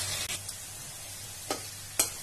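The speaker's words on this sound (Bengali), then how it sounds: "আলুগুলো সুন্দর করে ভাজা হয়ে গেছে" Potatoes frying in a pan give a soft, steady sizzle at low level, with a few sharp clicks of a utensil against the pan.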